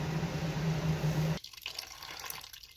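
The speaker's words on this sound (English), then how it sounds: "Here you can see it's flushing the water in the pan." A Samsung washing machine drains its tub during a repair, first with a steady hiss of flowing water. The flow then cuts off abruptly, leaving faint intermittent drips and trickles.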